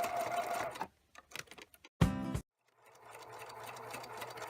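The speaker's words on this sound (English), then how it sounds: "So I start and then I back stitch, and this is a 1/4 inch seam." A sewing machine runs in short bursts while back stitching a quarter-inch seam on a cloth bag: brief rapid whirs, a pause, a louder clattering burst, then quiet hum.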